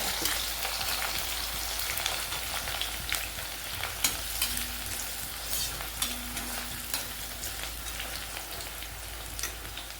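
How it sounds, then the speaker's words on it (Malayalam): Chopped small onions sizzle in coconut oil in an iron pan, a steady close crackling hiss with occasional spatters and faint stirring, no voices over it. "അതിലേക്ക് ഇത് ചെറിയ ഉള്ളി അരിഞ്ഞത് മൂപ്പിക്കാനിടാണ്"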